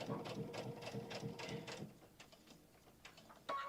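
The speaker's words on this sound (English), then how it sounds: "I also like to, when I get to the ends, to stitch across them" Sewing machine stitching across the ends of bag seams, a quick run of rhythmic mechanical stitching bursts that stops partway, followed by quieter handling clicks, close and fairly soft.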